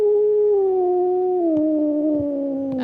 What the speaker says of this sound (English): That does sound like a very pissed off cat.